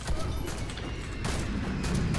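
A grenade goes off in the shooter game Warface, a loud blast followed by a dense burst of crashing, rumbling noise that stays heavy to the end, with no voices.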